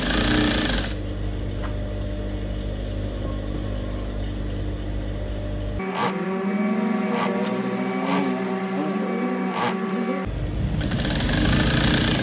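Sewing machine stitching a fully lined pencil gown, a steady loud motor hum with rapid needle clatter running throughout, briefly changing tone midway before resuming, close and continuous.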